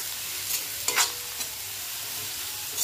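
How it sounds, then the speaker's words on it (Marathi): Stirring a vegetable dish in a pan just after roasted peanut powder goes in, with a few soft scraping strokes and light clinks at a quiet, close level and no voices. "1 चमचा कराळाचं कूट टाकायचंय आणि व्यवस्थित असं मिक्स करून घेऊया।"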